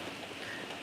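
Steady early-morning rain falling outside, a soft, even hiss with no voices, faint and continuous for under a second.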